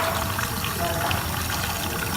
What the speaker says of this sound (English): we will wash the pygnometer and leave it reposando